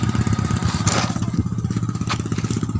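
A tunda motorcycle tricycle engine idles and revs nearby with a steady, chugging pulse, loud and close with no talk over it.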